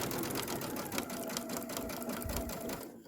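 A sewing machine stitches steadily at close range, a rapid mechanical hum and needle chatter running evenly before it stops abruptly at the end, while stitching on an embellishment project.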